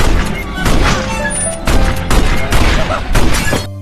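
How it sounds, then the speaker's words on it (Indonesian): Shotgun blasts from an old woman firing at rats in the animated film Ratatouille, a rapid series of loud booming shots with crashing debris in between, no talk. "Nenek itu mengambil sebuah senapan dan mencoba untuk membunuh mereka"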